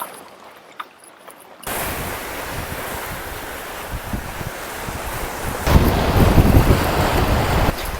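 Ocean waves break on a beach at Split, Croatia, a steady loud surf wash with wind buffeting the microphone, swelling stronger near the end, no one talking.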